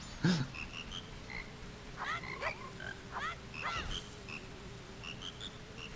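Frogs croak in the Majora's Mask Randomizer video game. Several distinct, warbling croaks come in a loose sequence over a low hum, with scattered short chime-like game tones and no talking.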